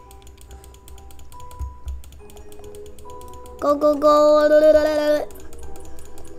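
Rapid, fast clicking on a computer keyboard during a Roblox clicker game runs throughout, layered with chiming game tones; a young voice briefly calls out.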